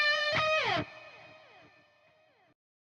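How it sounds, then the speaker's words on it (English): Harmonised electric guitar solo lines played without EQ, a short bright sustained chord with a quick gliding bend that then decays slowly, fairly quiet and alone with no talking. "So here's the sound of the harmonies on their own with no EQ."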